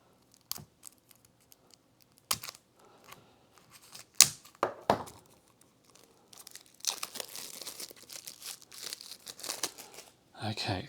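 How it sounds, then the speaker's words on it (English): Versailles 1919 board game cards being prised out of their packaging, giving scattered crinkling, snipping and tearing noises with sharp isolated snaps, then a denser stretch of rustling plastic and card near the end. "I'm going to try to crack open these cards"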